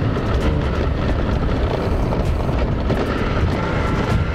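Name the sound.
1992 Piaggio Vespa PX125 scooter engine accelerating in second gear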